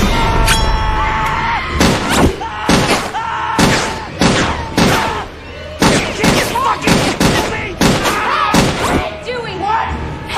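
A film scene's gunfire: loud, sharp gunshots repeated in irregular bursts over about ten seconds, some in quick pairs, with shouting voices between the blasts.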